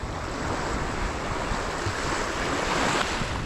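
Fairly strong ocean waves wash in a steady, close surf roar mixed with gusty wind noise on the microphone, continuous and without voices.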